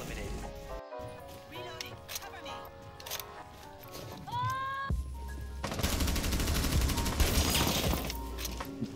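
Gunfire in the video game Rainbow Six Siege shoots a grenade out of mid-air amid busy game sounds, with a sharp sweeping tone and then a loud, dense burst of rapid shots and blast noise in the second half.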